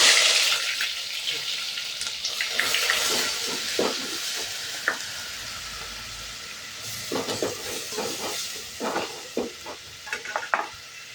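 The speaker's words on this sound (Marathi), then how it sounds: "कांदा टाकूया आता तेलात. तेल चांगलं तापलं गेलं." Chopped onion sizzles in hot oil as a spicy prawn dish is started, a steady frying hiss broken by the scrape and clatter of a stirring spoon coming at irregular moments.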